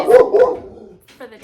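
Dogs bark indoors in a couple of quick, close yaps, overlapping someone speaking.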